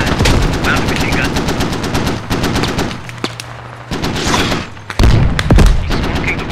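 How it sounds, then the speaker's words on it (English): Mounted machine gun on an enemy transport rattling off loud, sustained automatic bursts in the Squad video game, with a brief lull midway before heavy firing resumes, plus distant gunfire and booms mixed in. "One of their transports with a mounted machine gun."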